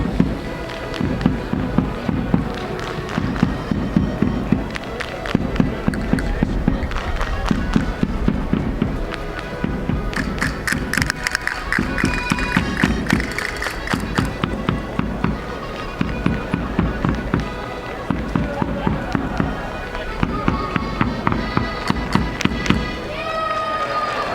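Castanets click in rapid, rhythmic bursts as Portuguese-descent marchers pass in an outdoor inaugural parade in Trenton, with a large crowd around, steady percussion underneath and a commentator talking over it.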